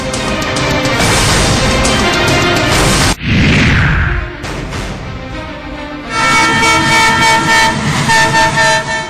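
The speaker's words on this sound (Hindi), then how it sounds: "ट्रेन सरसराती हुई आगे बढ़ जाती है" A train thunders past over a railway bridge above a drain in Barabanki, Uttar Pradesh, with a loud sustained rumble and clatter, a brief whooshing swell as cars pass close, then continued heavy rolling noise.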